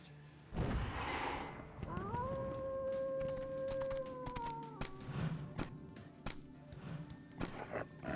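A werewolf in Vampire: The Masquerade - Bloodlines gives a long rising, wavering howl that holds steady for a couple of seconds and then fades, followed by rough bestial noises and rumbling game ambience, with no speech.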